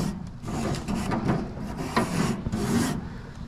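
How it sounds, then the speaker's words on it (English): A grill brush scrubs the grates of a charcoal grill in quick, rough back-and-forth strokes, a close scratchy rasp that comes in short bursts. "Now I'm just gonna come in and clean my grates."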